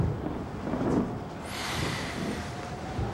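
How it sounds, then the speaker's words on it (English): Low, broad rumbling rolls in over a steady windy background, a distant thunder-like murmur with a faint hiss swelling midway. "you hear this thunder."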